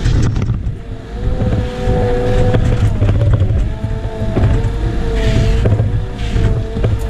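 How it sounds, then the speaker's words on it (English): A Cat loader works in snow on an industrial plaza, its engine droning steadily with rising and falling whine as a tire spins briefly, loud and close amid wind noise. "A little bit of a tire spin there."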